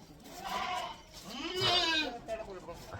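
Goats bleat on a farm at close to moderate distance, with a couple of wavering calls rising over a faint background, alongside a little human voice.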